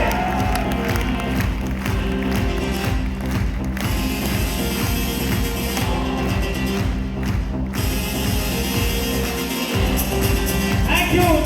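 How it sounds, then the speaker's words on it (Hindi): Audience at a motivational seminar in a hotel hall clapping hard and cheering, the claps locked into a steady rhythmic beat and thick with crowd noise throughout. "फिर से तालियां बजाइए।"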